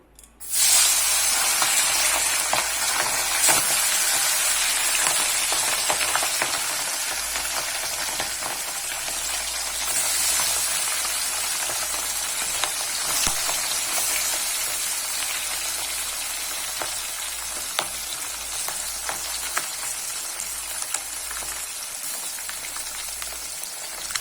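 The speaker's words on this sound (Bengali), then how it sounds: "তেল গরম হয়ে গেছে, মাছ দিয়ে দেব।" Puti fish frying in hot oil in a wok, a dense, steady sizzle and crackle that flares up loudly at the start and continues with little change, no voices present.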